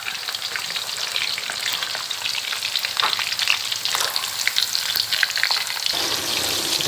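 Steady, dense sizzling of marinated sun-dried pork frying in hot oil, loud and close, with occasional stirring scrapes and no voices.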